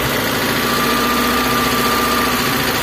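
Mitsubishi Colt engine idling steadily on a morning start, a loud continuous drone with a low rumbling pulse and no voices.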